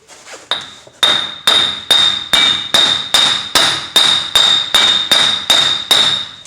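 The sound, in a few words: hammer striking wheel bearing on Chevy Silverado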